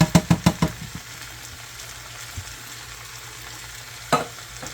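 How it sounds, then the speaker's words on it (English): Fire-roasted diced tomatoes are stirred into a beef and cabbage skillet. A quick run of five scraping strokes comes first, then a quiet, steady sizzle and one more scrape near the end. "Now, let's go in with some diced tomatoes, fire roasted."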